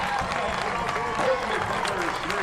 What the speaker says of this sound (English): The defending champions getting a round of applause from this Portsmouth crowd here in Exeter